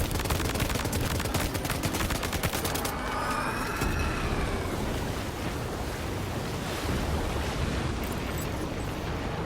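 Gunfire in Death Stranding 2 amid a rushing, surf-like wash of water and wind: a rapid burst of sharp cracking shots at the start, then a steady roaring environmental noise that continues alone.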